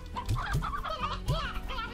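Chickens clucking in the farming game Slime Rancher, several short close clucks and squawks in quick succession, fairly quiet and heard without talk.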